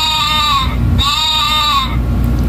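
Two long, loud sheep bleats close by, one after the other with a short pause, over a low steady background.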